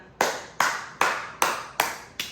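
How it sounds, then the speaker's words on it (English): Six slow, evenly spaced claps from a single person at the end of a mobility workout, crisp and close with a short ring after each. "Round of applause for you."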